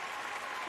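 A short, lively burst of applause, with quick clapping heard alone for under a second.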